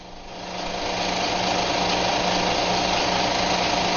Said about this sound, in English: Start the machine and make the final carburetor adjustments.